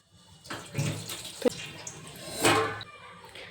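Rice being rinsed by hand in a vessel of water, with a few bursts of sloshing and swishing and a sharp clatter in between, close by with no talk.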